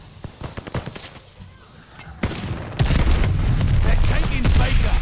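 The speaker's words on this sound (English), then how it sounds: "Friendly mortar fire coming." Friendly mortar fire in Call of Duty Vanguard: scattered gunshots at first, then heavy booming impacts roll in and settle into a loud, continuous rumble of explosions and gunfire.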